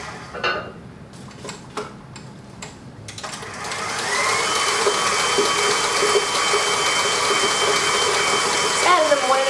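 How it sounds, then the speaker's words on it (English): A stand mixer beats eggs into sour cream pound cake batter, preceded by spoon and bowl clinks and a voice, then a loud steady whir runs to the end. "you do want to beat in your eggs"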